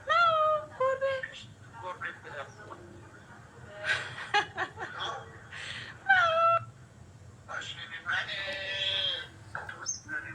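A cat meows several times in high, wavering cries indoors, mixed in with someone speaking softly to it.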